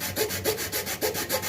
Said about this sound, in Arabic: بتحطها على المقاس بتاعك وبتقطع بأي صفيحة منشار صغيرة